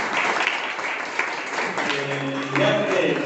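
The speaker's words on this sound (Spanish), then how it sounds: "Fuertes aplausos a las hermanas" Church congregation applauding to welcome visiting sisters at a parish service, steady broadband clapping throughout with voices and a sustained tone rising near the end.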